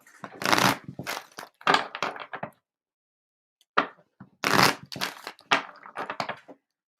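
Tarot cards shuffled in bursts of dry riffling and slapping, two long runs split by a short pause and a single quick tap, close and crisp with no talk.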